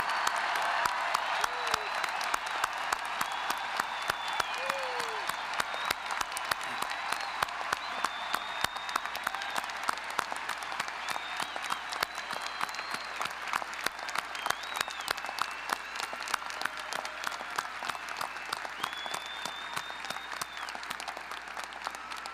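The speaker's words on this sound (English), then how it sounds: "let's give them a really rousing applause." Rousing applause rolls through a large outdoor crowd at a UNC-Chapel Hill commencement in 2009, honoring the blue-clad graduates; the clapping is steady and sustained throughout, with faint whistles and calls rising above it.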